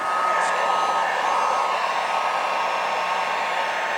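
A heat gun blows steadily to soften vinyl wrap film, a loud, close, continuous whooshing hum with a faint tonal whine and no break over four seconds.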